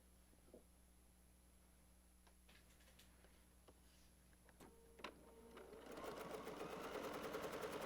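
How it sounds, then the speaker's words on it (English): A sewing machine stitching quilt pieces starts up near the end and runs in a fast, steady whir, after a few quiet ticks and clicks of handling. "So I'm going to go to the sewing machine and iron this."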